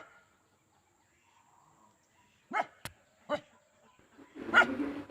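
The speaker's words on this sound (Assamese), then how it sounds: "এজনী হৈছে মোৰ ননদৰ পোহনীয়া কুকুৰ হয়" A pet dog barks a few times at moderate distance in an otherwise quiet setting, with short sharp yaps spaced unevenly and a louder, fuller bark near the end.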